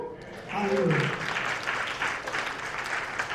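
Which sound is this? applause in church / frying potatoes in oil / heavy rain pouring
applause in church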